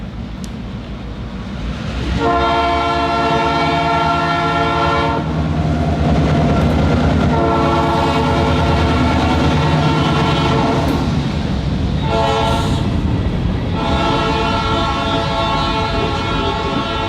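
A freight train on the Chattooga and Chickamauga Railway short line rolls past close by, its long, loud horn blaring in several blasts over steady rumbling and clacking wheels on a hot summer afternoon.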